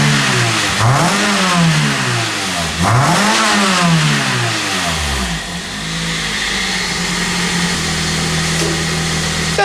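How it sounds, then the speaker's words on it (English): A car with its factory exhaust revs up hard twice, each rise and fall loud and close, then settles into a steady idle with no talk. "Let's hear some factory exhaust sounds too,"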